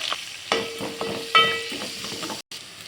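Cumin, curry leaves and onions fry in hot oil, a soft crackling sizzle broken by a few sharper pops and spatters, close up, with a short gap near the end.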